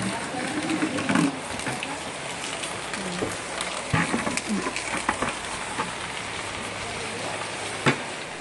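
Steady rain falls outdoors as a continuous broadband patter with scattered louder drops, heard over a sparse rural setting where leaves are being prepared for wrapping suman, with faint voices and a few knocks mixed in.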